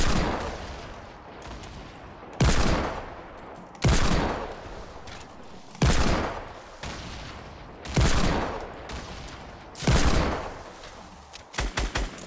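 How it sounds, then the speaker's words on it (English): A Fortnite grenade launcher fires roughly every two seconds, each loud thump followed by a booming blast that dies away, with a quick cluster of shots near the end and no talk. "start shooting your grenade launcher when you get closer"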